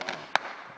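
Fireworks going off at a lakeside cottage: two sharp distant cracks punctuate a crackling, rumbling background, heard alone without talk.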